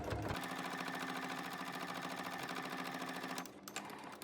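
Sewing machine stitching leather pieces for pants, running in a steady fast rhythm for a few seconds close by, then slowing and stopping near the end.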